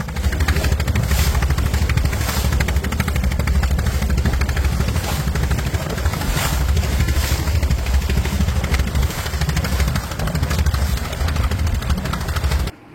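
A trawler-type boat engine runs on a crossing to Maheshkhali island, a loud, steady, close-up rapid chugging clatter that continues without pause for the whole stretch before cutting off.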